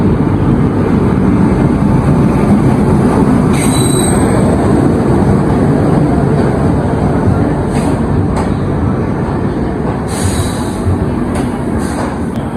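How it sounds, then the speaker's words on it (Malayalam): A Tatanagar-shed WP7 locomotive pulls in with a passenger train of AC and sleeper coaches, a steady loud rolling rumble broken by brief high wheel squeals, with no talking. "അങ്ങനെ നമ്മുടെ ട്രെയിൻ വരുന്നുണ്ട്"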